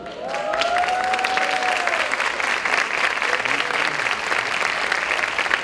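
An auditorium audience applauds strongly for an 80-year-old woman on Women's Day, with steady, sustained clapping and a faint crowd murmur underneath.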